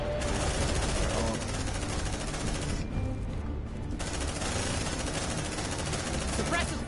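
Sustained automatic gunfire in the sci-fi game Aliens: Dark Descent, a dense, loud, continuous rattle of suppressive fire that fills the whole stretch, with combat noise layered underneath.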